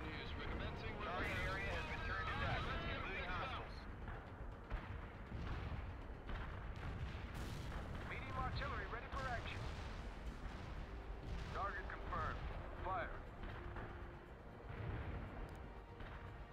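Artillery fire in the real-time strategy game World in Conflict, Soviet Assault, heard as repeated booming shots and blasts layered over continuous battle noise, while radio-style voices talk throughout.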